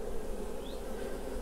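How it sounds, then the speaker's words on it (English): Honey bees buzzing at an open hive during a midsummer inspection, a steady dense hum filling the background throughout, fairly close and continuous with no talking over it. "Here's the bee with propolis on her legs."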